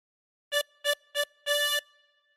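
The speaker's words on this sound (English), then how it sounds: "For phrase 2, breathe in through 10 4 times." Tremolo harmonica drawn through hole 10 in four breaths: three short, evenly spaced notes, then a longer held fourth, bright and reedy, played alone at close range.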